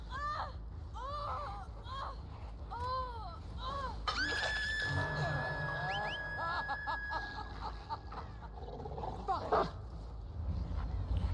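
The Houndmaster's dog in Dead by Daylight: a quick run of barks and yelps up close, followed by shrill screaming and game noise over a steady low background.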